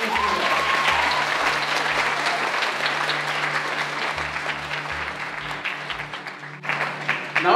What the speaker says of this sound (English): So if you can give your parents and your support system a round of applause,